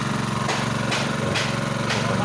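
A diesel engine driving a water-well pump is cranked over, giving a loud, close, steady chugging drone broken by rhythmic bursts about twice a second.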